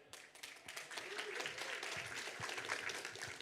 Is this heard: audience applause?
yes